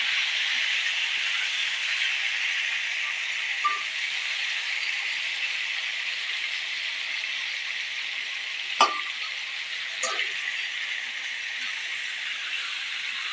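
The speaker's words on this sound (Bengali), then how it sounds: "শঙ্কর মাছ কিন্তু খুব বেশি ভাজতে লাগে না, অল্প ভাজলেই হয়ে যায়।" Stingray fish pieces frying in hot oil, a continuous close sizzle with a few faint clicks and light utensil touches over about thirteen seconds, no talking.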